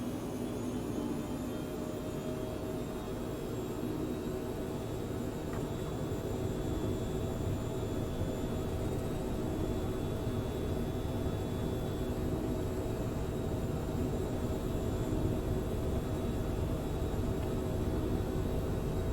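Cessna Citation C510 Mustang light business jet at takeoff power in a flight simulator, a steady loud turbine roar with a thin high whine, constant and unbroken throughout with no talk.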